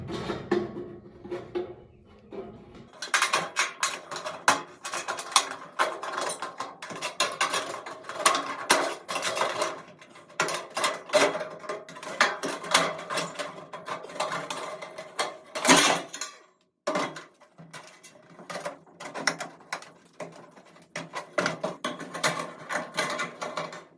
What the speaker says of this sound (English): I'm using my tin snips here.